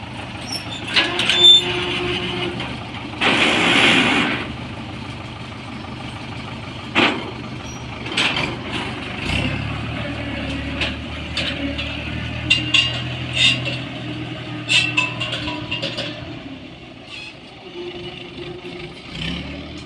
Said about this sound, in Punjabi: ਬਰਾੜ ਦਾ ਟਰੈਕਟਰ ਛੱਡ ਜਾਂਦਾ